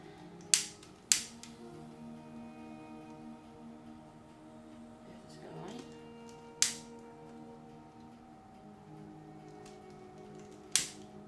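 Tea light candles are lit indoors, with several sharp, isolated clicks or strikes spread over the stretch, each brief and close, over a faint steady background hum, with no talking.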